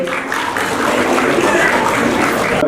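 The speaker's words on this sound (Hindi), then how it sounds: "तालियां होनी चाहिए मैम के लिए।" Sustained applause from an audience at the Indian Galaxy Foundation's National Excellence Award 2023 ceremony, a dense, steady wash of many hands clapping at close range, with no voices over it.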